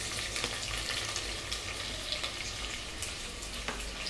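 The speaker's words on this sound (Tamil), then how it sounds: "வெங்காயத்தை போட்டு தாளிச்சுக்கலாம்." Onions frying in a pan with bay leaf, cardamom, cinnamon and cloves for soya tomato pulao, a steady close sizzle with faint stirring scrapes and no talk.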